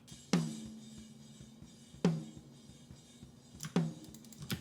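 Snare drum from a metal and rock mix with warm, boxy EQ, three hits spaced about two seconds apart, each a sharp crack with a ringing low body tail, fairly quiet and alone.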